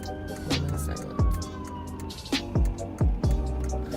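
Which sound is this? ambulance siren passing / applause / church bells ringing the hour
ambulance siren passing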